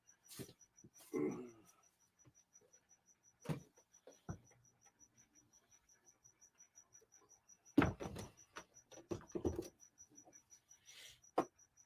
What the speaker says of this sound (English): As the crickets are serenading everybody this evening.